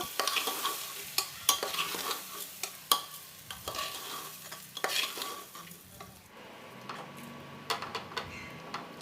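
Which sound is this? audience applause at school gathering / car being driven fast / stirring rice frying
stirring rice frying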